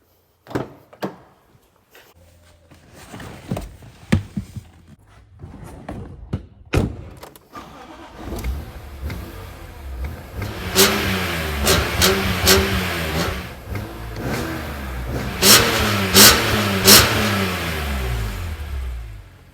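A BMW E46 M3 with a 3.2 litre inline six is started with a few sharp clicks and a catch, then revved repeatedly, its engine note rising and falling and growing louder and fuller toward the end, with no talking.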